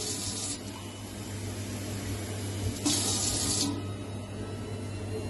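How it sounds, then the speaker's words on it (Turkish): Tap water running from a faucet into a glass, two brief hissing spurts of flow over a steady background hum, moderately close. "Bu bardağın rengi boş şu anda. Musluktan dolduruyorum."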